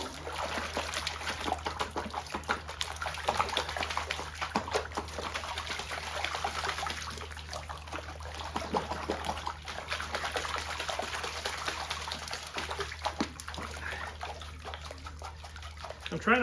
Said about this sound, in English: It needs to be down in the water so that the lighter silt can pass through the screen or wash off of the top of the screen.